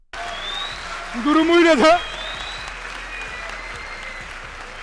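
A crowd applauding, a dense, even patter of clapping that runs throughout, with a voice speaking briefly over it midway.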